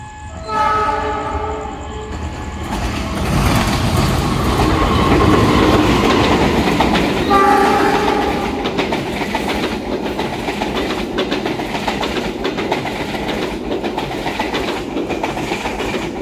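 Argo Dwi Pangga passenger train departing Solo Balapan station, its horn sounding loudly twice amid a heavy rumbling roar of locomotive and carriages, then steady wheel clatter as it rolls past close by.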